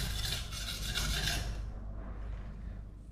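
Steady abrasive rasping of a knife stroked across a quartz whetstone, continuous and close, easing slightly in the second half.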